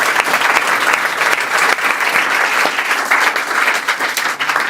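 Audience applause for a group of students who cleared the Air Force exam, a dense, steady clapping from a roomful of people, loud and continuous with no talking over it.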